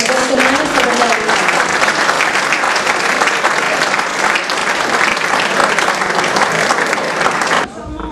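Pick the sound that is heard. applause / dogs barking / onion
applause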